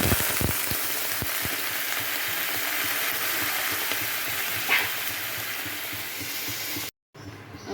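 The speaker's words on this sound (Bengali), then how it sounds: "আমি জল দিয়ে দিয়েছি আন্দাজ মতো।" Sliced potatoes and eggplant crackle in a hot pan after water is added, a dense steady sizzle with a few sharp clicks early on, fading slightly before a brief break near the end.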